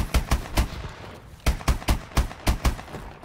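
M14 rifle fire in Advanced Warfare gun game comes in three tight bursts of two or three sharp, loud cracks each, separated by short pauses, with no talking over them.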